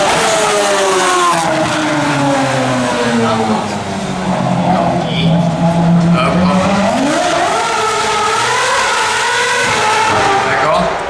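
Formula 1 race car driving through Warsaw streets, its high-pitched engine note climbing and falling through gear changes, loud and continuous with tire noise, heard close over the whole stretch.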